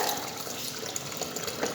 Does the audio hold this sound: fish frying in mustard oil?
no